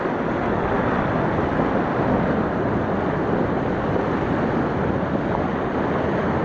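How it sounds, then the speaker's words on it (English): Ocean waves wash and rush continuously around a paddler on the water, loud and close, mixed with heavy wind buffeting the microphone and no talking. "wash off the waves a little bit."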